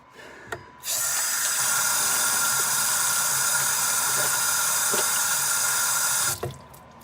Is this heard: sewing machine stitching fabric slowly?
no